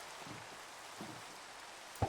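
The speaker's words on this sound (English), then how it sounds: "it's not even just raining in Minecraft, it's raining outside, actually" Steady, faint rain falls outdoors as a soft, even hiss with gentle patters, ending with a brief low thump.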